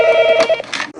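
A telephone at a police station rings with an electronic tone, a short, loud, close burst that cuts off abruptly.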